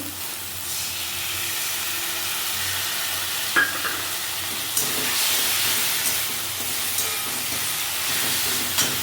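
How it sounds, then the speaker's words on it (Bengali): Tamarind water poured into shrimp and taro stems frying in a village kitchen, a loud steady sizzle that flares into bursts of hissing steam, with a few clinks and scrapes, no speech. "এই যে তেঁতুলের কাপ একটু দিয়ে দিচ্ছি"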